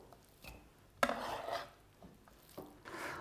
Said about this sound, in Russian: Лук мы нарезаем, обращаю ваше внимание, помельче, кубиками.